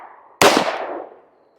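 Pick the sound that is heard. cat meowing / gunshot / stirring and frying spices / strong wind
gunshot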